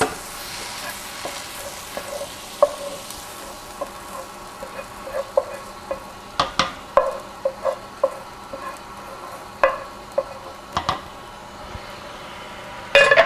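Softened onion and peppers are stirred into a pot of homemade pasta sauce, with a steady soft simmer broken by repeated sharp clinks and scrapes of a spoon against the pot, loud and close.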